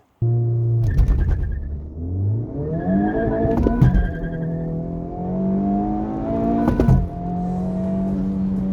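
A 2022 Honda Civic Type R with 329 hp accelerates hard from standstill to 100 km/h. The engine rises and drops through several loud gear changes, heard from inside the car with no talk.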